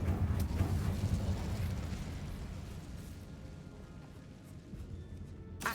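A fire spell erupts in Hogwarts Legacy with a loud, dense burst of flame that roars at the start and then fades into a sustained rumbling hiss.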